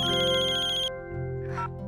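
A telephone ringtone plays loud and close as a steady repeating electronic tone, then cuts off abruptly partway through, leaving a faint hum and a brief soft noise.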